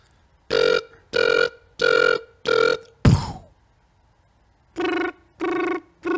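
A beatboxer's voice imitates an alarm clock with a run of evenly spaced, buzzy beeping bursts, then a single crashing hit and a pause before the beeps resume, all close and loud.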